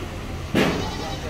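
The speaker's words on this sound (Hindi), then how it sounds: "ये हमारे बकरे हैं" A goat lets out a single short, loud bleat at a livestock market in Dubai or Sharjah, rising suddenly over a dull background murmur and then trailing off.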